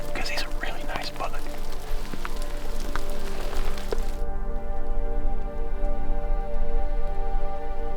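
Rain falling in open country during a pronghorn archery hunt, a steady soft patter with scattered drop ticks that thins to a quieter, calmer wash partway through.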